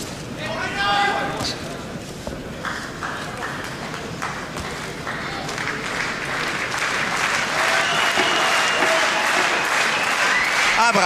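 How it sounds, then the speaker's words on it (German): A boxing crowd claps and cheers at a professional bout, a dense wash of applause building over the full stretch while a commentator talks over it. "Abraham sehr sicher seiner Mittel, ruft sozusagen das Publikum so mit der rechten Hand noch auf, mitzugehen mit ihm"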